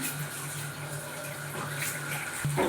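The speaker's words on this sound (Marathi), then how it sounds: "आता इथे हे बघा प्यायचं नळाला पाणी येते माझ्या इथे." Kitchen drinking-water tap running in the evening, a steady close gush of water with a low hum underneath.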